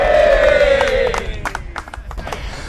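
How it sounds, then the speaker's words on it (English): Crowd cheering and whooping for an amateur golfer at the first tee of an amateur finals tournament, a loud burst of cheers and claps that fades into scattered applause. "That cheer was for you, young man."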